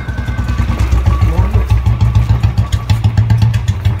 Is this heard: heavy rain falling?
no